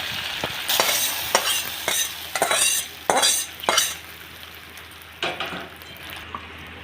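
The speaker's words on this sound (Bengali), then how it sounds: "ফোড়নটা রেডি হয়ে গেছে খিচুড়ির মধ্যে দিয়ে দেওয়া হলো এবারে ভালো করে এটা নেড়ে দেওয়া হবে" A hot spiced tempering poured into khichuri and stirred in a pot, with sizzling bursts and scraping spoon strokes in an irregular rhythm, close and fairly loud.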